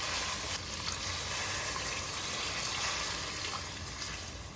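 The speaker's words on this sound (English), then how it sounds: "Now add 3 cups of water." Water goes into a hot pot of sautéed spices and chicken for soup, a continuous close hiss and wash of liquid that slowly fades toward the end.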